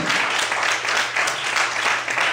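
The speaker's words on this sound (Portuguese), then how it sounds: "Será que você pode aplaudir o Senhor?" A church congregation claps together during a worship service, producing a steady, loud wash of applause that fills the whole short stretch without pause.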